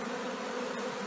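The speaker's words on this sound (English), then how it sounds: "tens of thousands of bees on me in this process" A swarm of tens of thousands of bees clustered in the crotch of a tree, giving a steady, dense buzz that holds evenly throughout, close and alone without any voices.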